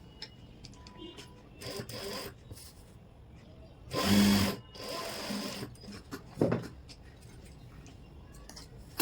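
A sewing machine stitches a trouser zip in short bursts, one long run of stitching in the middle with briefer runs before and after, quiet and fairly close with handling clicks between.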